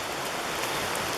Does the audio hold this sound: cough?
no